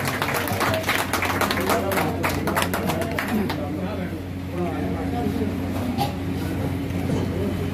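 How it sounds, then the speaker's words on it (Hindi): Loud applause and cheering welcome an MLA at a senior citizens' gathering in Karol Bagh, with dense clapping that thins briefly midway before swelling again, while a voice talks over a steady low hum. "जोरदार तालियां।"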